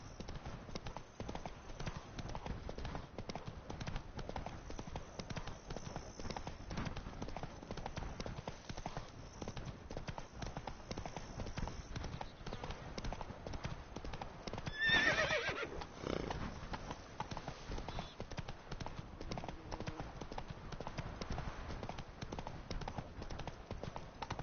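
Roach, a horse in The Witcher 3, gallops with continuous rapid hoofbeats for the whole stretch, a neigh rising in the middle, with occasional talk over the hooves.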